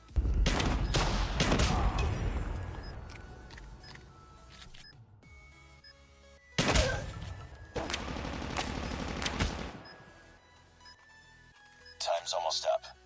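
Shotgun blasts ring out in Call of Duty Mobile multiplayer, loud bursts with reverberant tails in two main clusters, mixed with game sounds and a voice talking.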